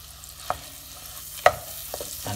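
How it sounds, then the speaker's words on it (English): Mashed potato goes into a pan of melted garlic butter, heard as a few soft close thumps and stirring scrapes over a faint sizzle. "I'm just going to now add the potato in it"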